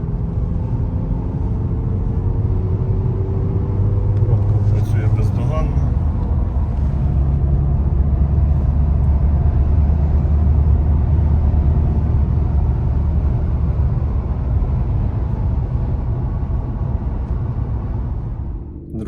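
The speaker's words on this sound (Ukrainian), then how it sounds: "Дуже прекрасний автомобіль в ходу" A 2019 Skoda Octavia A7 on the move, with a steady engine and road rumble close up throughout and a brief shift in tone partway through.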